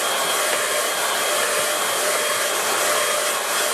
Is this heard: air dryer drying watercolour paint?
yes